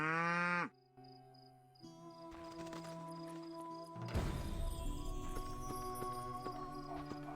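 A cow in The Witcher video game moos in a loud, rising low call at the start, then the scene shifts into steady game ambience with tonal music and scattered clatter, without any speech.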